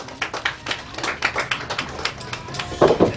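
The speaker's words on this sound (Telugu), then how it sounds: "క్లాప్స్ వినిపించండి, ఇంకా కొంచెం గట్టిగా" An audience at a film audio launch event claps in quick, scattered bursts, fairly loud and close, with voices mixed in.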